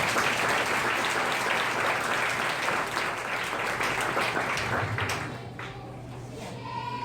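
Church congregation applauding during a sermon, a dense, loud wash of clapping that holds steady for several seconds, then thins and fades toward the end.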